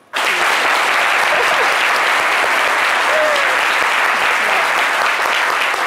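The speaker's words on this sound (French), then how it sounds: "je pense que ça s'applaudit" An audience applauds for a person destined to occupy a throne, at a live televised midday show, steady loud clapping that starts abruptly and continues without a break.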